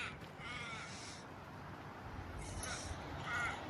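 Australian magpies calling harshly and repeatedly while chasing off an Australian ibis, heard faintly at a distance over steady outdoor ambience near a memorial rotunda.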